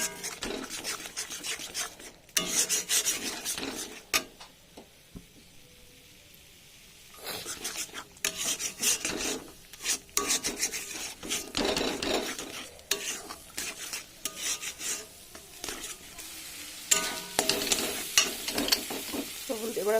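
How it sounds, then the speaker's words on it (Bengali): Eggs cracked into hot spiced oil are stirred in a pan while cooking a torka dish, giving a steady sizzle with repeated scraping stir strokes, loud and close with a brief quieter stretch. "এবার ভালো করে ডিমের ওপরে ঘুটে নেব।"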